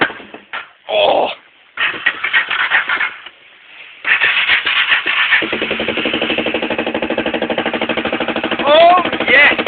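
A smashed Honda Fourtrax ATV is cold started: excited voices and choppy bursts as it cranks, then the engine catches and settles into a steady, rapid idle thrum, close and loud.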